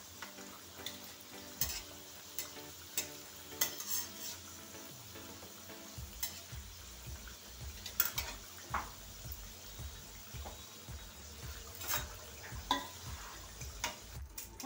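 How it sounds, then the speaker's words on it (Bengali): Samosas deep fry in hot oil with a soft, continuous bubbling sizzle, marked by regular light clinks and stirring taps from a utensil, all fairly quiet and close. "এভাবে আমি ভেজে নেব সবগুলোকে"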